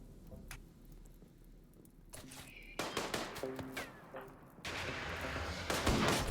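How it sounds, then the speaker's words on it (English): Gunfire in the colony-simulation game RimWorld, shots fired through smoke, heard as a run of sharp cracks and bursts that build into denser volleys, moderately loud with no talk. "We're shooting through smoke here, and now Dragobot's on fire"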